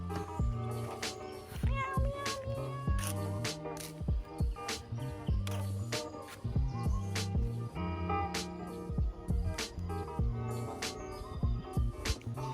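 Intermittent meows from a cat at a resort in Suan Phueng, fairly close and mixed with a dense run of other background sounds.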